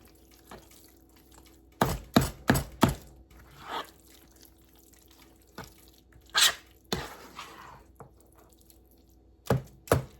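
A knife chopping a block of Velveeta cheese on a cutting surface: quick clusters of sharp, crisp taps in bursts of three or four, separated by quiet gaps, close and fairly faint.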